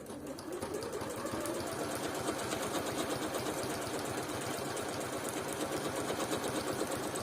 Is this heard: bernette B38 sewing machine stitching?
yes